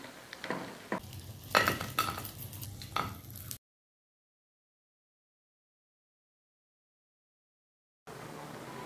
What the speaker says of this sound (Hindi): मिर्चें फ्राई हो गई हैं, इनको निकाल लेते हैं।